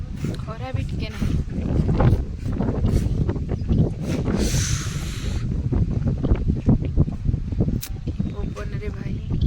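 Strong wind rushes in a steady roar across a village, loud against the microphone throughout, while a person talks over it.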